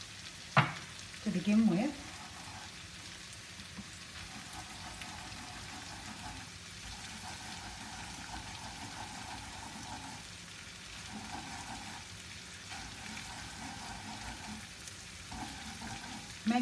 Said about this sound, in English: So you've got to cook the flour out or else it tastes floury.